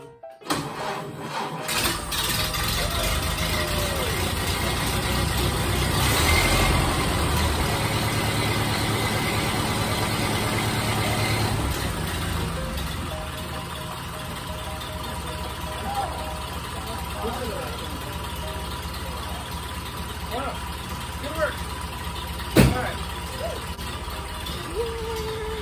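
A 1929 Ford Model A Roadster engine starts and idles after a manifold gasket change, a loud steady running rumble that eases to a quieter idle, with a sharp clunk near the end.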